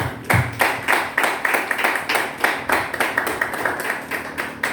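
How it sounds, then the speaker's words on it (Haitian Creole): An audience claps steadily for several seconds, a dense run of sharp, close hand claps with no voices. "On applaudit."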